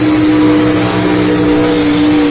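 A big block Chevrolet powered pulling truck, ACG 17, roars at a truck and tractor pull, loud, close and sustained with a steady high engine drone and no talking.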